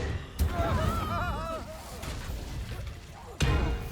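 An Incendio fire spell cast in the video game Hogwarts Legacy, a sharp impact followed by a whooshing, crackling burst, with another hard hit near the end amid warbling effects and a voice speaking.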